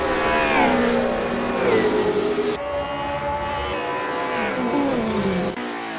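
DTM race cars in Assetto Corsa roar steadily at close range, the engine pitch sweeping up and down through gear changes, loud and continuous with no voices.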